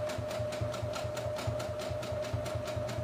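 A sewing machine stitches fabric at a quick, even pace, its rapid rhythmic clatter steady and close with a faint motor hum underneath.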